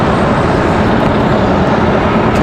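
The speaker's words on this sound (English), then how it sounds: "That A321 at 231 off to San Diego" An American Airlines Airbus A321 jet airliner departing Charlotte airport, a loud, broad, steady engine roar filling the whole short stretch with no pause.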